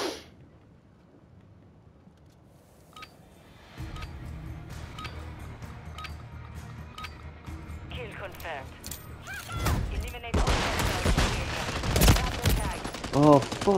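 Bursts of gunfire on the Shipment map in Call of Duty Modern Warfare III, quiet at first, then building into loud, dense shooting with sharp cracks near the end while a player talks excitedly over it.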